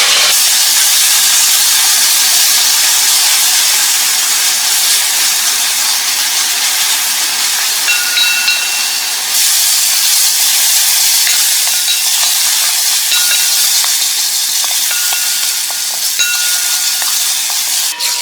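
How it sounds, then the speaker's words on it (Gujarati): Onions with a little salt fry in a pan toward golden brown, giving a loud, steady, hissing sizzle close up that runs unbroken throughout without any voices. "ઓનિયન સરસ ગોલ્ડન બ્રાઉન થાય ત્યાં સુધી આપણે એને શેકી લઈએ"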